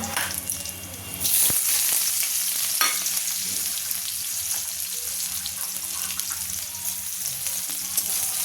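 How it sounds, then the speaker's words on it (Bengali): Onions hit hot oil with a sudden loud sizzle after fried chillies, then keep frying steadily for khichuri while a utensil stirs and scrapes the pan now and then. "এরপরে পেঁয়াজটা দিয়ে দেবো"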